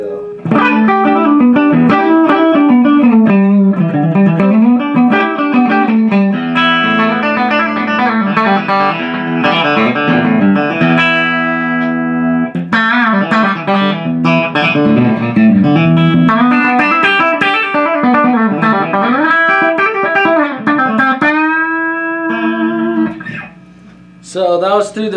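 Electric guitar played through the bridge P90 single-coil pickup of a Harley Benton SC-450, a continuous distorted run of chords and riffs, loud and steady throughout with a brief dip near the end.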